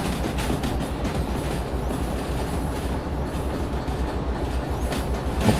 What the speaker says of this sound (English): we have a pretty long train here